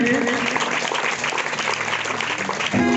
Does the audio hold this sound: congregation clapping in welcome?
yes